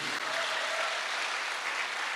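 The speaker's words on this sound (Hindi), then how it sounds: "एक जोरदार तालियां होनी चाहिए।" An audience applauds steadily in honour of donations made for martyred soldiers, a dense, even wash of clapping that holds at full strength throughout.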